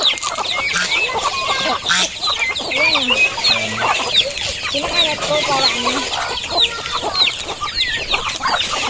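Chickens cluck and squawk steadily while feeding on yellow corn, a crowded flock of larger and smaller birds competing at the feed, the busy layered clucking continuous and fairly close throughout.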